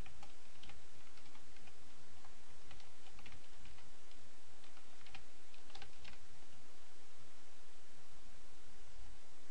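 Fast, continuous clicking of computer keyboard keys as someone types code in a close, steady stream of keystrokes with no talking.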